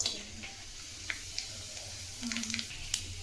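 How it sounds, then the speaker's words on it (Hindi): Whole spices sizzle faintly in hot oil in a kadai, a soft steady crackle broken by a few small pops and clicks, with no talking. "कढ़ाई तो गर्म है और तेल भी हमने डाल दिए हैं। अब हम इसमें खड़ा मसाला"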